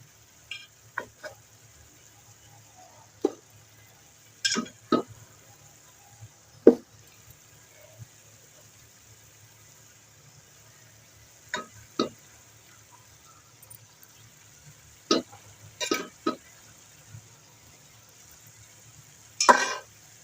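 Pieces of meat and whole onions cooked in yakhni stock are added and stirred into a chicken pulao pot, with scattered close knocks and scrapes of a spoon over a quiet background.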